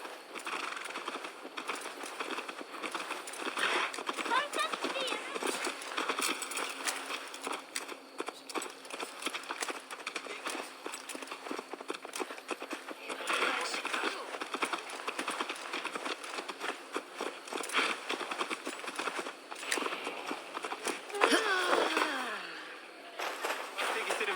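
Horse hooves clip-clop steadily in a Viking video game, with continuous galloping and footfalls under ambient game sound and some voice.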